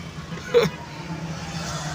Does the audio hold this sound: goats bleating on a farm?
no